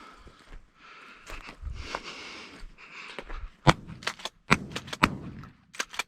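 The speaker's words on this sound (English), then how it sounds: "God, I love the shotgun." A shotgun fires at clay targets outdoors: a quick series of sharp, loud reports lands close together in the second half of the clip, preceded by softer handling noise and shuffling.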